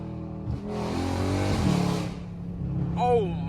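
Dodge Charger Scat Pack with catless mid pipes, its exhaust revving up hard into a loud, raspy roar, then dropping back to a rumbling idle, with a short excited voice near the end.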